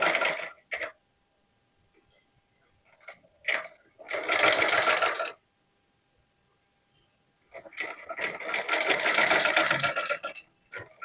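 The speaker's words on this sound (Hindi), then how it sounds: "सिलाई को हम यहाँ से लगाएंगे और यहाँ पे आके खत्म करेंगे" Sewing machine stitching the strip of a salwar suit, heard as two separate bursts of steady mechanical whirring, each a second or more long, close and fairly loud, with short quiet gaps and brief clicks between them.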